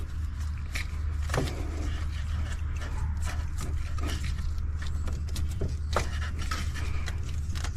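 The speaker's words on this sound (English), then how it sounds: "So now I'm gonna start prying the valve cover up." Scraping and creaking from a plastic valve cover being pried up on a Kia Soul engine, in irregular rubbing strains and small knocks over a constant low hum, close by, without speech.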